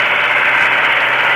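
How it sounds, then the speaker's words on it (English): A tractor engine runs steadily while plowing, a loud continuous drone with no pauses and no voices. "let me show you the tractor, how I'm plowing."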